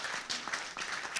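A brief burst of audience applause follows a working technical setup at a mayoral candidates' discussion in Ohrdruf, a short, fairly quiet patter of clapping with no voices.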